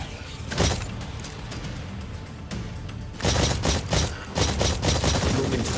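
Weapons fire at targets in the video game Exoprimal, with loud bursts of rapid gunshots in clusters over a steady mechanical hum and game effects.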